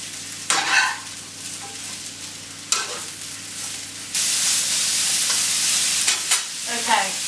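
Peppers stir-fried in a pan for a Chinese stir fry: a few sharp utensil clacks and scrapes, then a loud, steady sizzle sets in and runs to the end, with more stirring knocks near the close.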